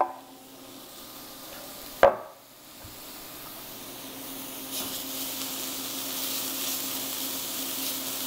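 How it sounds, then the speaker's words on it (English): Fresh fava beans with garlic, anchovy and tomatoes sizzle steadily in a hot frying pan after a sharp clatter, the frying hiss growing a little louder and brighter as it goes on. "Get it sizzling."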